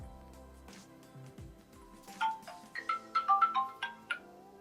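Electronic ringtone chimes from a phone set off by a budget smartwatch's find-phone feature, a few quick melodic beeps rising in a close, clear pattern with no talking.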